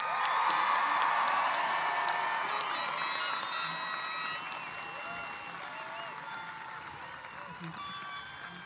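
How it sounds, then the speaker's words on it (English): Sustained applause and scattered cheering from a large crowd at a high school graduation ceremony for the class of 2025, loud at first and slowly fading while remaining dense. "Can we give one more round of applause for the class of 2025?"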